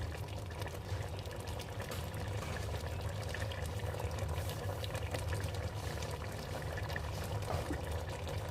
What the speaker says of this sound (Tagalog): Magpakulo tayo ng tubig para sa white rice.